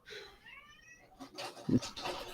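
A cat gives a clear, drawn-out meow with a rising and falling pitch, followed by a few short clattering knocks and rustling noises close by.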